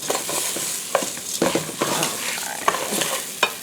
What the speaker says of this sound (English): Stir that up for a couple of minutes and try to get those spices toasted a little bit